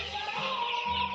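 Ten-day-old coloured broiler-type chicks cluck and peep together in a short, steady, fairly close chorus with no talk.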